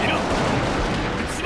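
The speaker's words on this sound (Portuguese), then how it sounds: "Tiro de mosquete." A musket shot fires in the feudal Japanese strategy game Nobunaga's Ambition: Awakening, a dense burst of gunfire-like noise filling the whole moment loud and close, with a voice faintly underneath.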